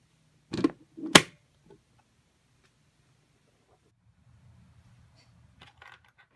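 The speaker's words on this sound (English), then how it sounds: "You can put in coins from the top like this." Two quick metallic clinks of coins dropping into a panda piggy bank cash box in close succession, followed by near silence with faint small clicks.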